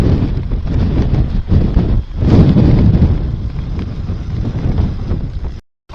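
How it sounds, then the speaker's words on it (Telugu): A heavy gale rushes past during a ride, loud steady buffeting with surging gusts that cuts out abruptly near the end. "ఏం గాలిరా బాబు, బీభత్సమైన గాలి."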